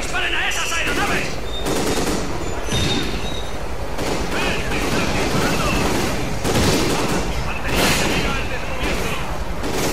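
Rapid machine-gun fire and bursts of gunshots aimed at aircraft in the Call of Duty Ghosts campaign, loud and dense throughout, with booms and intermittent shouting voices mixed in.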